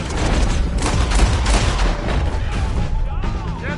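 Gunfire in the video game Red Dead Redemption 2, a dense volley of booming shots in rapid bursts during a wagon fight, loud and close, with voices shouting over the shooting.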